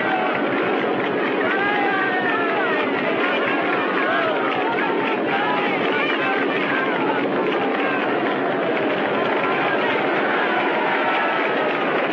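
An airplane engine drones loudly through a takeoff, a dense roar sustained for about twelve seconds, with excited voices and crowd murmur mixed underneath.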